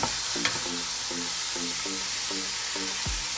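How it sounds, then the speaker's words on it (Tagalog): Pinakbet vegetables with pork sizzle steadily in a frying pan while being stirred, with a broad frying hiss and a regular series of scraping strokes, ending in a soft thump. "Halo-haloin natin ganyan para masangkot siya."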